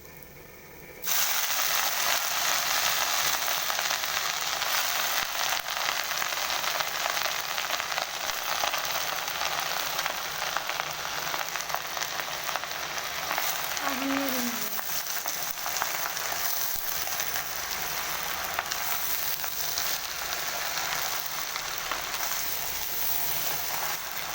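Moringa leaves frying in hot oil that has turned brown, a steady dense sizzle and crackle running loud and close for the whole stretch after a quiet first second, with no voices.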